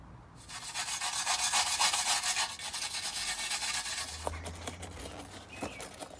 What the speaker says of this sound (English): Now I'm going to give it the final buff up with Brasso.